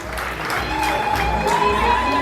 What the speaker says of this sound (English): Can you clap for every South Sudanese that is celebrating today?